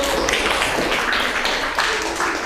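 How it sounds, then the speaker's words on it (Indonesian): Students in a classroom clap together after a presentation, a dense, loud wash of applause that holds steady for a few seconds without pause. "Sekali lagi beri tepuk tangan."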